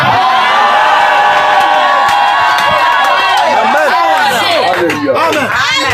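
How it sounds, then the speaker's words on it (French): A church congregation raises loud, continuous shouts of joy and cheering, with whoops and overlapping voices in a dense crowd roar that stays at full level throughout, broken only by a brief dip near the end. "Je peux entendre les cris de joie."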